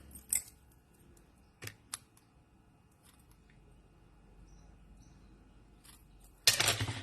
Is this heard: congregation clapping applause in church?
no